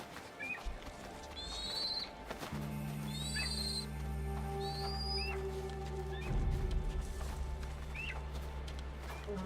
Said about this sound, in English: Noisy freaking bird, I know, right? Just screaming in the background.